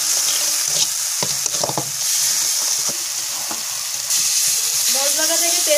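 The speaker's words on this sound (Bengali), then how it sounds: "ভালো করে মশলাটা কষিয়ে নেব।" Ground chilli, turmeric and salt masala sizzles in a pan for a lote fish curry, with close, brisk scraping stirs and a hissing fry that swells toward the end.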